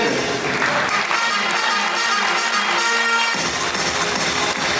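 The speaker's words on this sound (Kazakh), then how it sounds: "Орнымнан тұрып шапалақ ұратын" Wedding guests at a Kazakh bride-farewell celebration (uzatu toi) stand and clap, producing a dense, steady wash of applause with music sustained underneath throughout.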